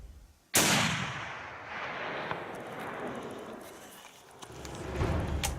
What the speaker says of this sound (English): Nice shooting, Mike.